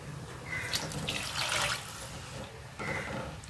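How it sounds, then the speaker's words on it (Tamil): Water pours into a simmering mutton keema ball gravy, with a steady splashing rush that swells briefly in the middle and again near the end, close and fairly loud, with no talking. "மிக்ஸி வாஷ் பண்ண வாட்டரை சேர்த்துக்கிறேன்"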